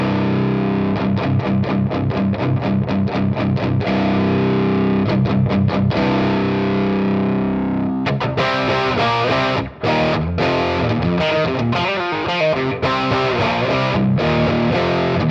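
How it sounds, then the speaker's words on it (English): Electric guitar through a Mosky Tai Ji Drive pedal, a budget Zendrive clone set for distortion rather than fuzz: loud, aggressive, punchy overdriven playing, first rapid repeated chugging strums, then a busier riff with sustained distorted chords. "I'm going to go for a distortion sort of thing rather than a fuzz"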